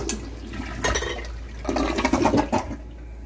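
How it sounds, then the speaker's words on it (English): A toilet flushes close by, a rushing swirl of water that surges twice and then drains away to quiet, with no talking over it. "Let's flush."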